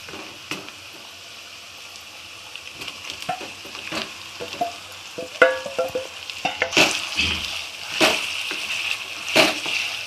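Chicken pieces go into a pan of well-fried onions for a Sunday chicken curry, sizzling and crackling close up while a spoon scrapes and stirs, with sharper clattering strikes and louder frying bursts toward the end.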